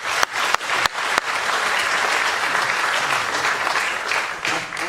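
Audience applause at an anniversary celebration of an African television program, opening with a few sharp claps and then swelling into steady, sustained clapping from a crowd.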